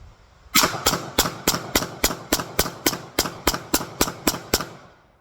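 A Stoeger STR-9F pistol fired rapidly at a range: about fourteen sharp, loud, evenly spaced shots in quick succession, each with a short ringing tail, with no talking over them.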